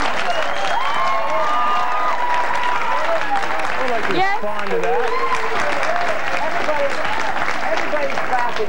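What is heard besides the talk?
studio audience clapping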